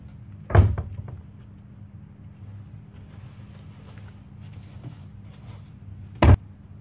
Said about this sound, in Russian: Я думаю, вы слышали, как дверь хлопнула.